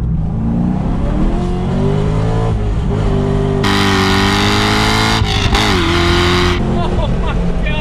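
Corvette C6 Z06 sports car engine roars hard under acceleration, pitch climbing and dropping through gear changes with a bright rasping wail, loud and close from inside the car while excited voices exclaim over it.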